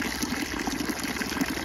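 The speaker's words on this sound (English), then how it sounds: "I am just standing next to the water feature" A running water feature outdoors, a steady close wash of splashing, gushing water with a faint trickling texture, continuous and fairly quiet.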